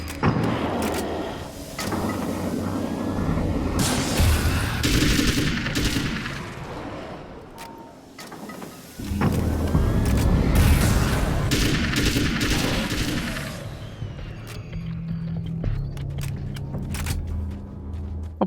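Gunfire in the video game Alan Wake's American Nightmare, a dense, loud barrage of repeated blasts with a brief lull midway, then resuming and trailing off into quieter rumble, with no talking.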